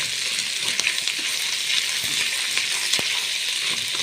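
Garlic fries in oil in a pan, a loud, dense and continuous close sizzle with occasional faint crackles, heard alone.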